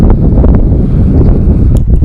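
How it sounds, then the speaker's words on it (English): Gusty wind buffeting a microphone outdoors, a loud low rumble with irregular thumps and flutter across the whole short stretch, no voices. "A little windy out today."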